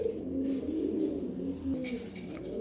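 A racing pigeon coos nearby in low, rolling, throaty phrases, repeating steadily throughout with a faint chirp near the end.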